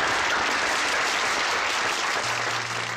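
A studio audience on a Thai television talk show claps in steady, even applause, close and full, lasting about three seconds with no voices over it.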